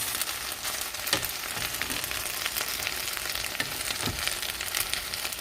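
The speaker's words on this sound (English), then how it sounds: "stir it in, then we're going to cover it" Dominican rice with longaniza sizzles in a pot over low heat as it is stirred, a constant close crackle broken by a few soft scraping stir sounds, with no voices.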